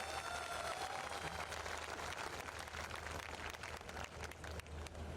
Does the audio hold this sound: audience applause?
yes